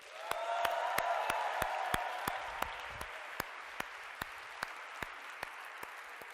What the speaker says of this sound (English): So if we could clap for her on camera,